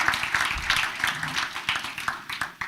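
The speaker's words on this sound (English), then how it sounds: "big, big round of applause" An audience at a township committee meeting breaks into steady, sustained applause, a dense wash of many hands clapping continuously at moderate loudness from start to finish.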